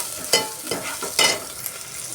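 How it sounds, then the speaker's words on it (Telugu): Cumin seeds and onions fry in a pan, giving a close, steady sizzle broken by two sharper scraping stir strokes and a few lighter clinks of the utensil. "ఫస్ట్ జీలకర్ర ఉల్లిపాయలు వేసుకుని వేగించుకుందాం"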